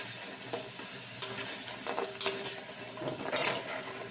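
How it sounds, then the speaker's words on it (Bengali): Chicken pakoras frying in hot oil, biye bari style, with a soft steady sizzle and a few louder bursts of crackle and stirring scrapes as the pieces are turned. "পকোড়াগুলো একদম উল্টে পাল্টে লাল লাল করে ভেজে নেব"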